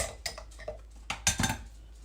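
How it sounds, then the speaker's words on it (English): A utensil scrapes brownie batter out of a bowl into a baking pan: several short, uneven metallic scrapes and clinks close by, with no talk over them. "Scrape all that out."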